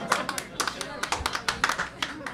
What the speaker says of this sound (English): thank you for applauding my pain